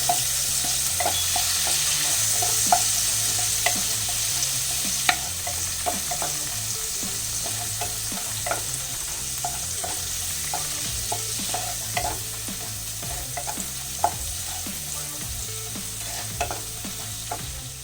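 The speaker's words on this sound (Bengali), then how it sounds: "1 চামচ ধনে গুঁড়ো, হাফ চামচ হলুদ গুঁড়ো দিয়ে এটা আমি 1 মিনিটের মতো নাড়াচাড়া করে নেব" Spoonfuls of ground coriander and turmeric stirred and fried in a hot pan for a vegetarian chhana curry, a steady close sizzle with regular scraping strokes of the spoon against the metal, no voices.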